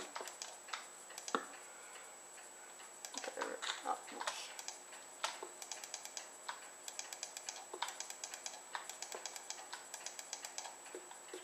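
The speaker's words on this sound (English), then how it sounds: "Probably hear my mouse clicking" Computer mouse clicking during a Minecraft session, a run of light, quick clicks and taps repeating through the clip, fairly close and quiet, with no talking over them.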